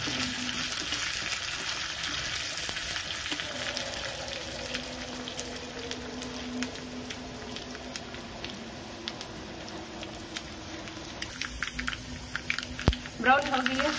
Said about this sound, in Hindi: प्याज को ब्राउन करना है, गोल्डन ब्राउन करने के बाद करी पत्ता डालेंगे।